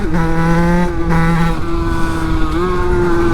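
A tuned 50cc moped engine screams at high revs during a wheelie, a loud close buzzing whine with clear harmonic pitch that dips briefly and climbs again, with no talk over it.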